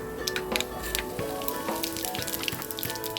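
Mustard seeds, urad dal and cumin crackle in about three teaspoons of hot oil in a pan, a dense, continuous sizzle with scattered sharp pops, close and steady.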